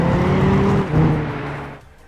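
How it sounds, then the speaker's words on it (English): A soft, muted car engine from the racing video game Gran Turismo 6, a thin digital buzz held steady at moderate loudness before easing down and fading near the end, with no speech. "There's very little bark or bite to the muted engine notes"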